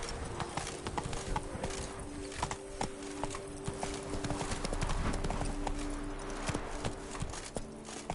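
Roach, a video game horse, gallops with a continuous fast clip-clop of hooves over several seconds, mid-level in loudness, with faint voice sounds and game ambience underneath.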